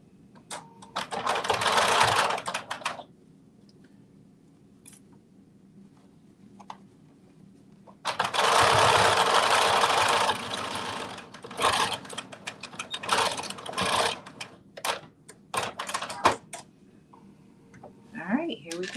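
A home sewing machine stitches a seam in short bursts of rapid, even mechanical chatter separated by pauses, with a longer run in the middle and a person talking quietly between the runs.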